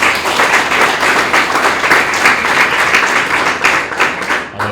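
A round of applause from an audience at an artificial intelligence community event, loud continuous clapping that swells and holds for the full stretch before thinning slightly at the end.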